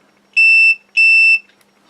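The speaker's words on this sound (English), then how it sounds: "if two things are connected, you'll get a beep like that" Two loud electronic beeps from a multimeter on continuity test, each about a third of a second long and separated by a short gap, heard alone during a micro quadcopter build.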